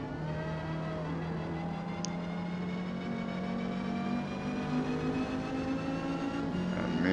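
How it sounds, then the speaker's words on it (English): Race cars drag racing to the finish in Forza Motorsport, D class at Maple Valley with a Renault 8 Gordini, a steady engine drone with rising pitch as the cars accelerate alongside each other, moderately close. "And me and this guy end up having a little bit of a drag race to the finish line"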